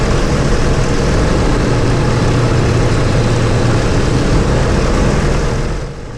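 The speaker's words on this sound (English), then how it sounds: "we're cycling the propeller. We're going from full fine to full course, and you'll hear the RPM of the engine drop." A Yak-52 warbird's engine drones loud and close while its constant-speed propeller is cycled from full fine to full coarse, the steady roar holding, then dipping in pitch and volume at the end.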